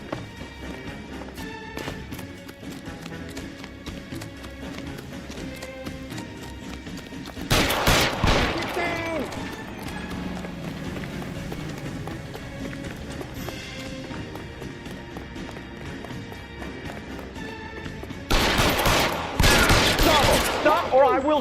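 Bursts of gunfire in a video game shootout, two dense volleys of rapid shots standing out over running footsteps, hoofbeats and game background sound, with voices speaking at times.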